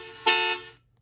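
A single cartoonish car horn honk from a children's educational game, bright and loud, held for about a third of a second and then cutting off, with no talking over it.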